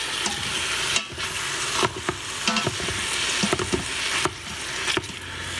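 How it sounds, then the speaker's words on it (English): Plastic meat chopper working ground meat in a hot pan for stuffed pepper soup, giving steady sizzling with repeated scraping strokes and clacks against the pan, close and continuous without talk. "it chops up the meat great"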